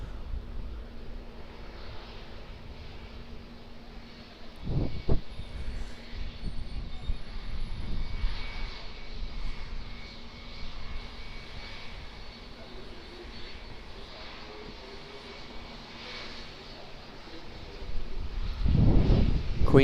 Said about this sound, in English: we'll get a glimpse of our next international departure, which is that Qantas 737 I talked about earlier.